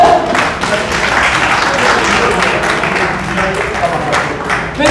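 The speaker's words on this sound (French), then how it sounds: "Alors, je vous demande s'il vous plaît d'applaudir monsieur" Audience at an Independence Day celebration applauds an association president: dense, steady crowd clapping at close range, holding level throughout with a voice faintly mixed in.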